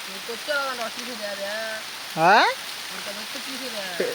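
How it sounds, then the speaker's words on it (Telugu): Rain patters steadily in the background in a village while a person speaks close by, with one louder exclaimed phrase midway. "ఫ్రెండ్స్ వర్షం అయితే చూడండి ఎలా వచ్చేసిందో వర్షం మా ఊళ్ళో"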